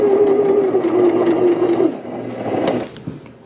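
A sewing machine runs a straight stitch on a tote bag, a loud close motor whir with rapid needle clatter that slows and drops off partway, then restarts more softly.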